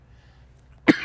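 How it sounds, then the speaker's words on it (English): A single sharp cough bursts out near the end after a quiet pause, close and loud, in the middle of a talk on John's gospel. "Sorry, I got the cough."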